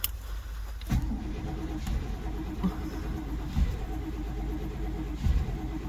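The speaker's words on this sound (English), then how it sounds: "It's so cold out, it doesn't even want to start on starter fluid." An old Chevrolet Suburban is cranked over in zero-degree cold after a dose of starter fluid, its starter churning steadily and loudly up close with brief surges, but the engine never catches.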